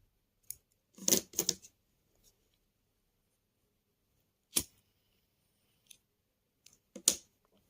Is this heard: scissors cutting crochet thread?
yes